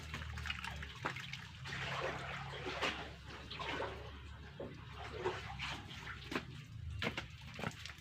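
Water is poured and trickles steadily for aglaonema plant cuttings, a soft continuous splashing with occasional drips and clinks, faint and quiet throughout.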